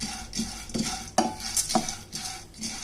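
Roasted gram is dry-roasted in a pan and stirred, giving a few scattered scrapes and a couple of sharp metallic clinks against a faint rustle, close and quiet, with no voices.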